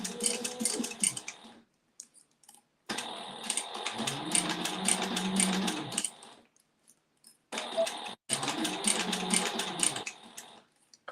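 A sewing machine stitches in several bursts, a close rapid whirring hum with steady mechanical ticking, stopping and restarting between runs with quiet gaps.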